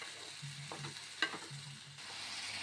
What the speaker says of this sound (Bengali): এই সব দিয়ে আমি একটু বেশ ভালো করে মশলাটা কষিয়ে নেব